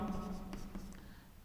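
Pen writing on paper or a board during a Class 11 accounts lesson, soft scratchy strokes in short bursts over a steady low hum, close and fairly quiet.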